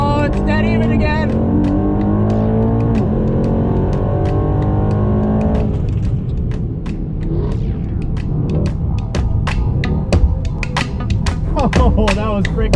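Two high-powered cars, a 700 hp Mercedes E63S AMG and a Dodge Hellcat on slicks, roar loudly through a drag race, engines droning hard with a falling shift at mid-run before a rougher, gravelly revving finish.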